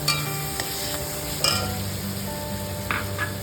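Chicken biryani with garam masala sizzles steadily in a pan while a large spoon stirs through it, bringing occasional scrapes and light metallic clinks, heard close up.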